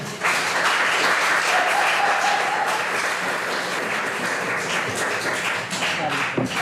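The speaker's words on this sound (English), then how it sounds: "we don't allow clapping in the chamber" An audience claps in a city council chamber, a sustained burst of applause lasting several seconds at steady loudness, with some talk mixed underneath.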